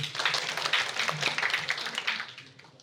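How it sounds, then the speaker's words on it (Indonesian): Applause for a performer named Jo at an Indonesian church online worship service, a short burst of clapping from a small group that rises quickly, holds steady and fades out within a few seconds. "Kasih tepuk tangan buat Jo dong."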